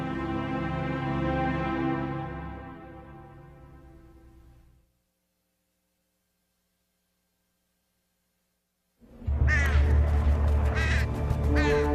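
Crow-like birds of ill omen cawing, used as an ominous sound effect; a loud harsh burst fades out into silence, then another cluster of sharp caws erupts close and loud.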